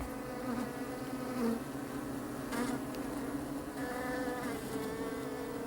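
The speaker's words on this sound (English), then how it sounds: "we were suddenly interrupted by a huge swarm of bees" A dense, continuous buzzing of a large bee swarm around a house's windows, steady and droning, fairly close, with no voices.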